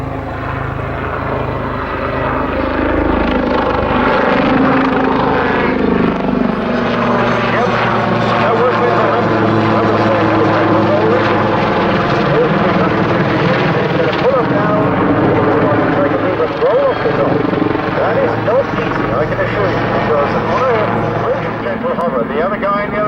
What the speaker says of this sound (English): the final aircraft display of the afternoon, the Army Air Corps Lynx helicopter